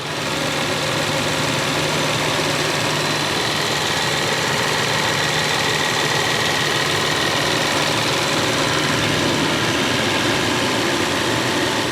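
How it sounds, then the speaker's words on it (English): A 6-litre BMW V12 idles smoothly and quietly, a steady, even hum with a faint low rumble held throughout, close by with no talking. "You probably want to hear what this 6-litre V12 sounds like, don't you?"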